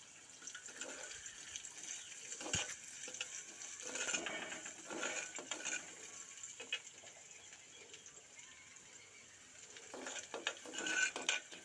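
Onions being stirred and sautéed in a pan while cooking jackfruit seeds: soft, irregular scraping and clinking of a utensil against the pan over a steady sizzle, fairly quiet and close, with no talking.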